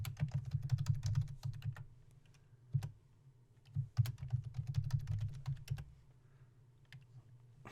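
Keys clack on a computer keyboard in quick close bursts separated by pauses, as a command is typed at a terminal, with a low hum beneath and no talk.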